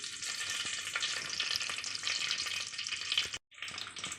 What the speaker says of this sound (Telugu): ఆయిల్ వేడయ్యాక హోల్ గరం మసాలా దినుసులన్నీ వేసుకోవాలి